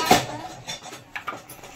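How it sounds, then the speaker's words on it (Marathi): A lid clatters onto a metal pressure cooker on a gas stove as dal is readied for tempering, a sharp clank followed by a few lighter metallic knocks and scrapes, close and clear with no talking. "मस्त कुकर असं ठेवून द्यायचं आणि झाकण लावायचं"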